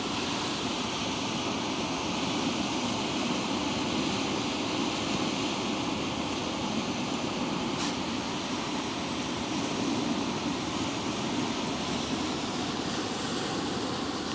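Wake waves from a passing ship roll onto the Westerschelde shore, a steady broad wash of surf that holds at an even level throughout, with no voices.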